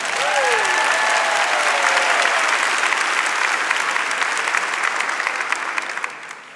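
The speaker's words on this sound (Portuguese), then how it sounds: "Aplauda a sua fé." A church congregation breaks into loud, sustained applause that fills the room evenly for several seconds before tapering off at the end, with a voice briefly carrying over the clapping at the start.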